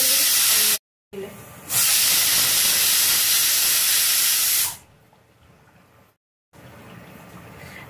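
Puri, an Indian fried bread, cooks in hot oil in a strong loud hiss that cuts out briefly twice and drops to a softer sizzle partway through, heard up close with no talk.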